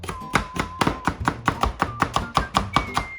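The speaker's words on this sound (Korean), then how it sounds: "우선 파를 파파파파 썰어주세요" A knife chops green onions on a cutting board while vegetables are prepared for beef bulgogi. Quick, even, close strikes, roughly a dozen, are heard alone without talking.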